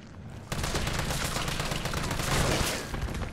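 Rapid burst of gunfire aimed at enemies' legs in Resident Evil 3 Remake, a dense automatic rattle that starts abruptly and runs loud and close for about three seconds before tapering off.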